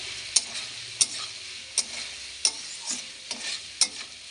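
A spatula scrapes through pea curry masala sizzling in a pan, about seven sharp strokes in a loose rhythm over a soft frying hiss.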